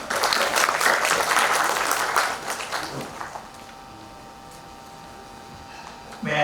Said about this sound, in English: I request everyone to welcome Sri Rao with a warm applause.